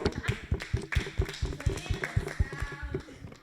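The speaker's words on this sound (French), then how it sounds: "On peut l'encourager avec des applaudissements" Audience clapping at a mime game with teenagers, a quick, uneven patter of hand claps close by, steady through the moment, with speech mixed in.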